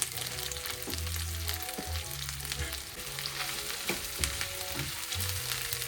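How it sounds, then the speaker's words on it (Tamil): Chopped mushrooms frying in a pan, a close, continuous sizzle and crackle punctuated by occasional stirring knocks and low hums, with no one speaking. "ஸோ இப்போ வந்து நம்ம வெட்டி வச்சிருக்கிற காளான் போட்டுக்கலாம்"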